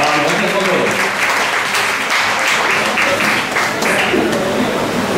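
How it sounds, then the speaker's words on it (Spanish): An audience claps steadily for a performer at a rock and roll show, a thick continuous roar of hands with a voice speaking over it in places. "Le damos fuerte el aplauso al señor Matías Benchiverga"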